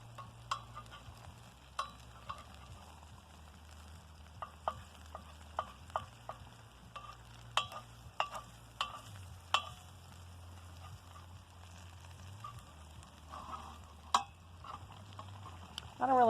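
A steak fries in ghee in a pan outdoors in the mountains, a quiet steady sizzle broken by scattered clicks and taps of utensils against the pan.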